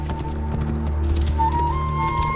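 A horse's hooves clip-clop at a steady walking rhythm in the video game Assassin's Creed Origins, close and clear over a low ambient game hum.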